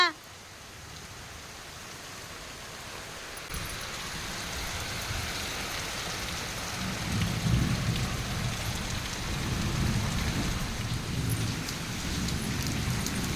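Steady rain pours down in a continuous wash, growing a little heavier partway through, with low rumbling underneath and no talking.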